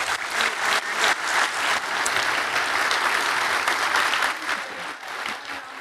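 A conference audience at a business sustainability forum breaks into warm applause after a token of appreciation is presented, a full, steady wash of many clapping hands that holds for several seconds before easing slightly.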